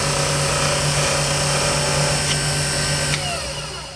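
A power sander works a pen blank with a steady, loud electric whine and droning hum that holds throughout, easing slightly toward the end, with no talking.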